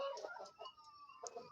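Siam chickens on a farm in Pidie Jaya, Aceh, clucking in short repeated bursts with a few higher calls, fairly close and with nobody talking.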